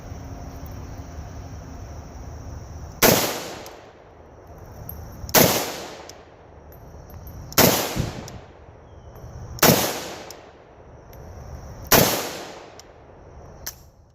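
Five loud rifle shots fired through a Meridian Defense BD3-AKD muzzle brake, evenly spaced about two seconds apart, each a sharp cracking blast with a short ringing decay, heard close from a few feet to the side.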